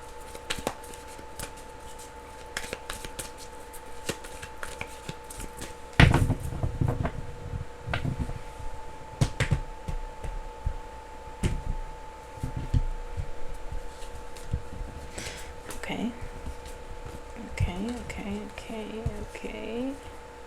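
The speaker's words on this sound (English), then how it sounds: "I have to shuffle again." A deck of cards is shuffled and riffled in short bursts of crisp flutters and taps, close to the microphone, with a steady tone in the background and some quiet handling noise.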